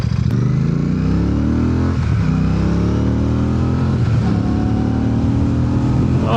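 A 47-horsepower Royal Enfield motorcycle accelerates hard, its engine rising steadily in pitch through a gear change, loud and close as if recorded from the rider's helmet, with wind noise mixed in.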